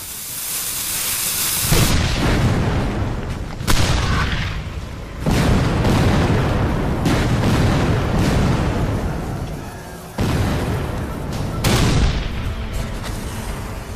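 Civil War cannon fire at the Battle of Gettysburg in 1863, twelve-pound smoothbore guns firing solid iron shot: several loud, deep booms in succession, each bursting suddenly and rolling on into a long rumbling decay.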